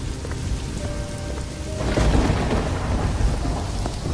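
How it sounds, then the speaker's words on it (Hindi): Heavy rain pours steadily on a stormy night as a deep rumble of thunder swells midway and rolls on beneath the dense downpour. "उस भयानक बारिश वाली रात में"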